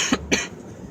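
Two sharp, close coughs in quick succession from a man in the middle of reading scripture aloud, followed by quiet room tone.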